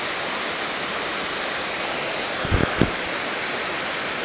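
Steady broadband roar of a waterfall at Cherrapunji, Meghalaya, flowing with clear water in mid-November, constant and fairly close, with a couple of brief knocks partway through.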